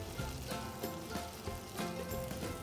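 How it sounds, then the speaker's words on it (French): Turnip slices fry in a pan, a soft steady sizzle with faint crackles and small pops, quiet and close with no talking. "donc on va mettre nos petites tranches de navets dans la poêle"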